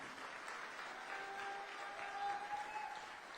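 A large audience in a hall at a wellness company event claps steadily, a dense, even wash of applause with faint voices underneath.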